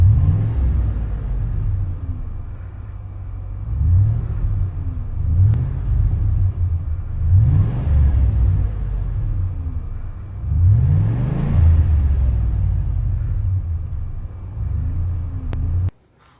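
A 4.6L Triton V8 pickup engine with its stock muffler still fitted rumbles at idle, then revs up three times in swelling rises before settling. It sounds close and deep, with no talking.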